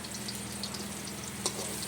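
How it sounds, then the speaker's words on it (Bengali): Slices of eggplant shallow-frying in oil, left uncovered, for a second round, making a steady close sizzle with one brief clatter and no talking. "দ্বিতীয়বারের জন্য একইভাবে ভেজে নিচ্ছি সবগুলো বেগুন"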